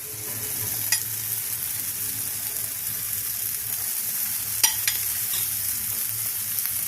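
Boiled kabuli chickpeas being stirred into a frying masala in a pan, a steady close sizzle with occasional scraping clicks from the spoon, heard alone.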